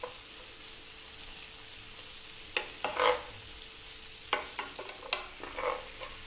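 A single red chili fries in a pan over medium heat with a steady low sizzle, then bursts of crackling and a few spoon scrapes and taps in the second half, with no voices.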